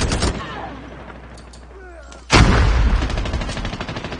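Sniper gunshots ring out in Call of Duty Mobile: a loud burst of fire opens, a quieter lull with faint whizzing follows, then another sharp, loud shot leads into steady rattling gunfire.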